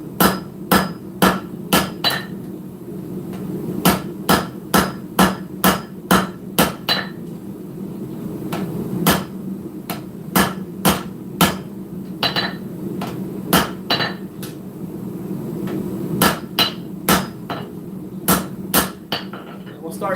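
Hammer forging a steel spear on an anvil, loud ringing metallic strikes in quick bursts of several blows separated by short pauses, repeating throughout close to the listener.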